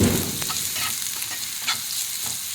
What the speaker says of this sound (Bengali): তো পেঁয়াজ আর কাঁচা লঙ্কাটাকে আমি ভেজে নেব।